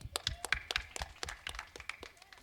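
Audience at a Tamil stage drama in Madurai clapping, a quick burst of scattered, overlapping handclaps heard close and lively for a couple of seconds.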